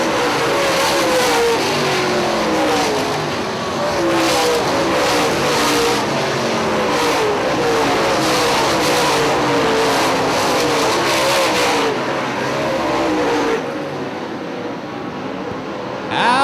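Late model stock cars race around a half-mile speedway, their engines roaring loud and steady as the pack passes close, with the engine tone rising and falling before the noise eases near the end.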